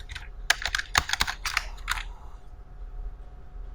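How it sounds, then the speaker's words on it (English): Quick, close keystrokes clatter on a computer keyboard in a short uneven burst, then stop, leaving a quiet room. "let's type our text"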